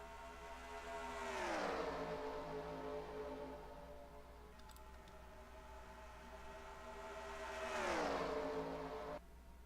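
Race cars in a NASCAR Racing 2003 game, an ARCA event at Pocono, sweep past in two fading whooshes of engine whine, each rising then dropping in pitch as they pass, with a steady drone between.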